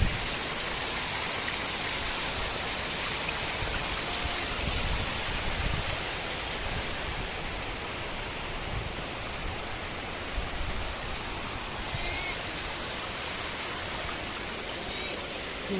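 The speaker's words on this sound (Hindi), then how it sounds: "वो है उधर वाटरफॉल, उधर देखो पानी कहाँ से" The Naguni waterfall near Lungta camp in Dharamshala, Himachal, pours as a steady, dense wash of rushing water that fills the air unbroken from start to finish.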